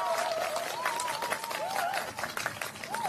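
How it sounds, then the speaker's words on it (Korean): Applause from a talk-show audience, broad steady clapping over about three seconds with a speaking voice audible over it. "여기서 박수 한 번."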